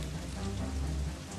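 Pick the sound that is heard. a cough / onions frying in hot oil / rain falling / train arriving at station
rain falling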